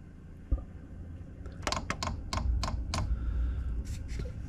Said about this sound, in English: So you hear that clicking, that's the fuel starting to be injected into the little heater system.